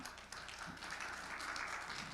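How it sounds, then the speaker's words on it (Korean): Audience applause welcoming a speaker at an international destination competitiveness forum, a steady dense wash of clapping held throughout at moderate distance. "여러분 박수로 환영해 주시기 바랍니다."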